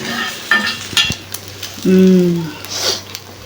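Oil sizzles and crackles in a pan as food is fried with drumstick flowers, with stirring clatter and a few sharp utensil knocks; a louder burst of frying swells midway.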